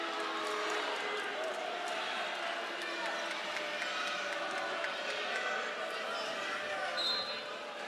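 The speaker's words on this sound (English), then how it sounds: "you hear a lot of booing in the crowd who thought that ball landed in" Crowd at a women's college volleyball match between Auburn and Alabama booing and murmuring across a large arena, a steady broad roar with scattered squeaks and thumps from the court, with commentary voices over it.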